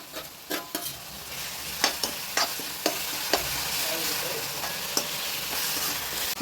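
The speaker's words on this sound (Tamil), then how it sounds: "இது தக்காளி வதங்கட்டும்." Tomatoes and onions sautéing in a pan for Chettinad chicken sukka, with a soft continuous sizzle broken by a series of sharp spoon clinks and scrapes from stirring, close and clear; no speech.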